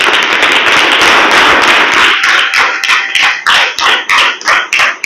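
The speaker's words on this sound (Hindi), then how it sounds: "बोलो, ठोको ताली।" Crowd of listeners clapping at a direct selling gathering, dense loud applause at first that thins into a few separate sharp claps toward the end.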